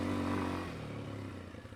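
A 2025 Kawasaki KLX230R beginner dirt bike being ridden on a test ride, its engine droning loudly and steadily close by with a slight easing of pitch.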